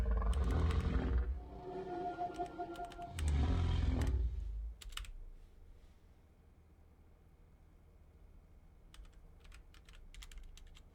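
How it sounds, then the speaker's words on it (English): Sparse, crisp keystrokes on a computer keyboard click in short bursts near the end, after a loud creature roar from the game fills the opening seconds. "If I could type."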